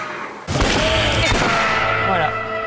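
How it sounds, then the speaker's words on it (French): Gunfire in the Western video game Red Dead Redemption: a sudden loud burst of shots that rings out and sustains with echoing reverb and rumbling tails, dense and close, with no speech over it. "c'est les fameux coups de feu"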